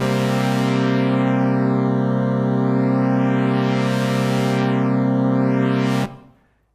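A sustained buzzy sawtooth tone on a Moog One synthesizer holds one note with a slowly sweeping, hollow whooshing shimmer across its upper overtones, then cuts off abruptly.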